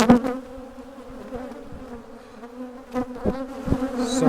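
A decade-old honey bee colony, agitated during a removal, fills the air with a dense, steady buzz of many bees close by, swelling louder in brief surges toward the end.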